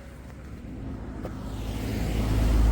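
A car on a Himalayan hill road drives off, its engine rumble swelling steadily louder and lower as it pulls away nearby, heard alone without talk.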